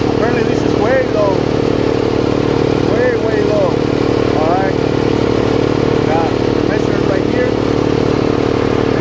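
A Rol-Air air compressor's engine runs steadily to warm its oil and hydraulic oil, a loud, constant mid-pitched mechanical drone with rattling clatter throughout and no breaks.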